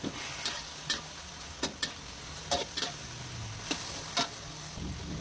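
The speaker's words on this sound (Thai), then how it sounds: "ผัดให้เข้ากัน" Pork stir-fried with black pepper in a wok, a steady close sizzle broken by sharp ladle taps and scrapes against the metal at irregular intervals, with no voices.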